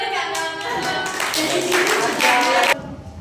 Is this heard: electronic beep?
no